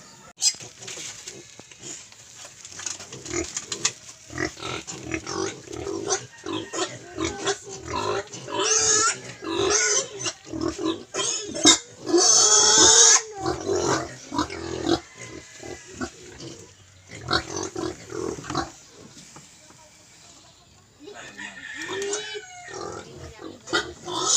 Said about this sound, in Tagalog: samahan niyo ako sa aking pagkukuha ng mga biik